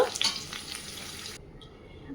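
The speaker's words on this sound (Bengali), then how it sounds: "আলুটাও আমার লাল করে ভাজা হয়ে গিয়েছে" Potatoes fry in hot oil, making a steady close sizzle with some stirring that cuts off abruptly partway through, leaving near silence.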